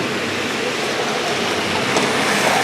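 A continuous rumbling rattle of a small train rolling along track, steady and fairly loud throughout.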